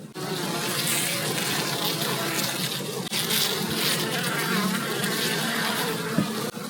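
Honeybees swarming and attacking a queen bee at a queen-rearing apiary, a loud continuous buzzing drone close by, with no talk.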